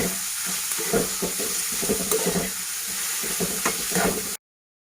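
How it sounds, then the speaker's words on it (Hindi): Vegetables with capsicum and spring onion are stir-fried for veg fried rice, a loud close sizzle with a spatula scraping and tossing in rhythmic strokes, cutting off abruptly before the end. "शिमला मिर्च, अब हम इसको मिक्स करेंगे और ये लाइट फ्राई करेंगे।"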